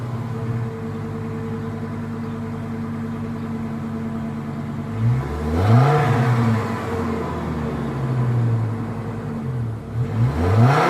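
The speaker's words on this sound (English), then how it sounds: "So that was a rev with stock exhaust" A 2005 Chevy Colorado Z71 pickup's 3.5-liter engine with stock exhaust idles steadily, then revs up sharply twice with a throaty roar before settling back, no talking.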